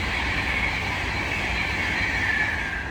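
A Class 390 electric train on the Liverpool Lime Street to London Euston service rushes past at Nuneaton on the West Coast Main Line, a loud, steady, close roar of wheels and air with a faint high whine, no voices.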